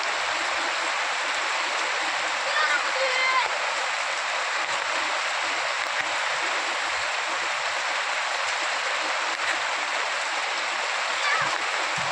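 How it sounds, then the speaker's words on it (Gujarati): Heavy rain falling on Bagasara village in Amreli district, a dense, even hiss that holds steady and loud for the whole stretch, with a faint voice briefly under it. "સારામાં સારો વરસાદ પડે છે ભાઈ અમારે"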